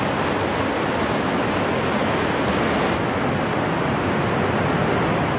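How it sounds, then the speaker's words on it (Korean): Niagara Falls in winter roars as a steady, dense wash of falling water, loud and unbroken from start to finish, with no voices. "어디서 어떻게 보느냐에 따라 서로 다른 매력이 보인다는 나야가라 폭포."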